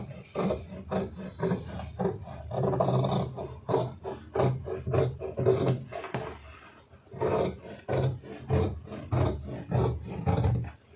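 Scissors cut through blouse lining cloth in a tailoring session, sounding as a busy run of close, rasping snips and rustles of fabric that go on steadily for about eleven seconds, with no talking.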